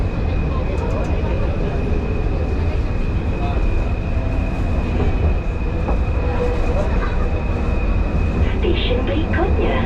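A Kuala Lumpur LRT train running underground gives a loud, continuous rumble and rattle with a steady whining tone, and muffled voices sit in the background.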